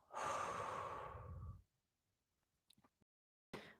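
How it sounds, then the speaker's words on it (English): A long, deep exhale during guided breathing, close and breathy for about a second and a half, followed by quiet with a couple of faint small sounds and a brief breath at the end. "take a deep breath out"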